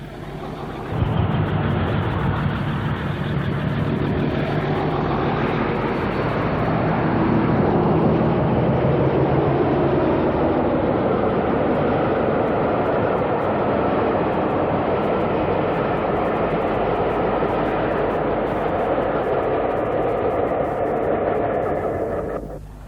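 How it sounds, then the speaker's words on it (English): A British Rail Class 27 diesel train pulls out of Crianlarich for Oban, a sustained loud roar of engine and rolling wagons that carries on steadily throughout before fading at the very end. "The same train leaving for Oban."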